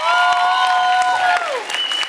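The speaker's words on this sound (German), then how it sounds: "könnt ihr ruhig Applaus geben, wenn ihr wollt." Audience at a German breakdance battle, Kill The Beat 2012, bursts into loud, dense clapping and cheering, while a tonal whistle or feedback tone glides downward over the top.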